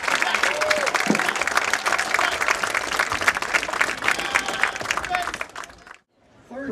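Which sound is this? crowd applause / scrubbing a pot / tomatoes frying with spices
crowd applause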